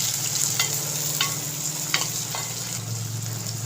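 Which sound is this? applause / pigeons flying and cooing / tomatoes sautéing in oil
tomatoes sautéing in oil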